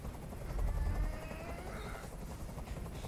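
A helicopter in the video game Detroit: Become Human, a steady whirring rotor drone with a heavy low thump early on, sustained and fairly loud throughout without speech.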